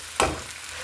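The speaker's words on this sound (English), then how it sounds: "Cooking some pan food." Food cooking in a frying pan with oil: a sudden burst of sizzle flares up and then eases into a low, steady hiss close by, with no talking.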